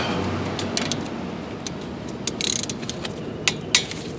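A ratchet wrench loosens a 14mm bolt on the front brakes of a 2013 Mazda CX5 AWD, producing a rapid series of close, crisp metallic clicks in uneven bursts over a faint background hiss.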